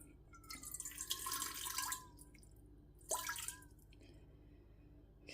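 Lukewarm water pours into a container for rye bread dough in two short splashing bursts, the second briefer, with a quiet pause between them and a faint steady hum underneath.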